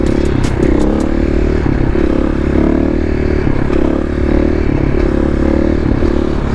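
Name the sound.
KTM 500 EXC-F supermoto motorcycle doing a wheelie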